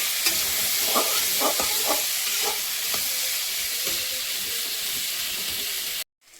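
Sizzling oil with steady scraping and stirring strokes in a pan as grated ginger is mixed into a Malabar spinach curry, a close, continuous hiss with soft utensil knocks and no talk.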